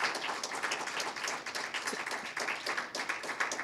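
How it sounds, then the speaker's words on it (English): An audience at a public library educators' showcase gives a round of applause, a dense, lively patter of many hands clapping steadily throughout with no talking. "Can we get another round of applause for them?"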